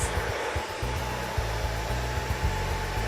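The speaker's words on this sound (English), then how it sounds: "Continue wrap drying all the way through, wrapping her hair around her head" Hair dryer blowing steadily while hair is wrap-dried and smoothed around the head during a blow-out, a loud continuous whoosh with a low droning hum and slight flutters as the airflow shifts.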